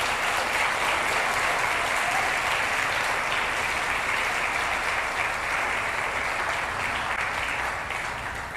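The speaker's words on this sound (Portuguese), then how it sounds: "Você pode aplaudir o Senhor, que Ele merece?" A church congregation applauds at a worship service with loud, thick, continuous clapping that stays strong throughout and eases off slightly at the very end.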